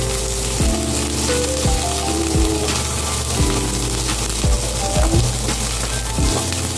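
Onions sautéing in a pan for Bisaya-style beef bistek, a loud continuous sizzle with repeated scraping stirs and clacks of a utensil against the pan at a steady pace.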